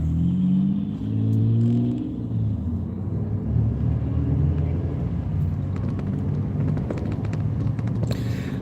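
An old truck engine rumbles past close by, its low revving growl building and then fading into a broad rush of road noise.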